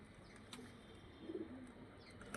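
Soft pigeon coos from a household flock that includes Teddy-type pigeons, heard faintly over a steady background hum, with a brief murmur of cooing in the middle and no talk.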